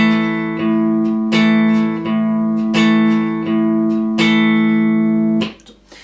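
An electric guitar hybrid picking exercise, pick and fingers plucking together, rings out as a series of bright, sustained note groups struck roughly every 0.7 seconds, clear and close with no voice.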